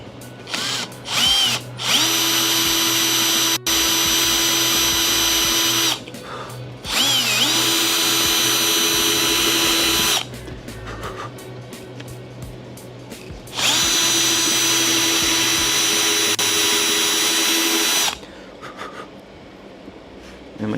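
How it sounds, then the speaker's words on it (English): A power drill bores into wood while a model ship is being built, running in three long, loud steady bursts with short pauses between them and a quieter stretch at the end. "Yeah, Rani, it was a good idea to use the drill bits for the wood"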